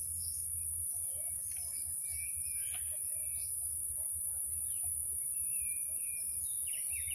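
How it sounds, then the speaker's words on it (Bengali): Crickets keep up a constant high, shrill chirring in green countryside, while scattered birds call faintly over it and no one speaks. "শুনতে পাচ্ছি ঝিঝি পোকার ডাক।"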